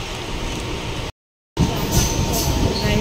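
Inside a moving commuter train heading into Panvel, a steady loud rumble of wheels and carriage noise runs throughout, broken by a brief moment of silence before the rattling resumes.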